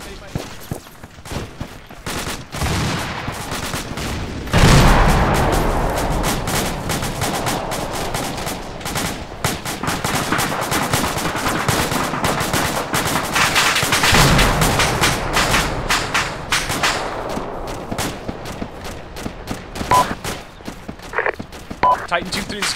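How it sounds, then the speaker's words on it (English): Enemy gunfire in a military video game: a dense series of rapid shots and bursts that goes on without a break, with a loud boom early on and distant popping mixed in, while radio-style voices talk over it. "That's enemy fire, get cover from that."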